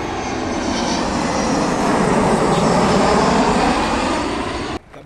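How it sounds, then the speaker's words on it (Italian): An Airbus A320-216 with CFM56 engines lands at Rome Fiumicino, its engines roaring loudly and steadily as it passes close by, a broad rushing rumble that cuts off abruptly near the end. "L'aereo Italia A320-216 proviene da Catania"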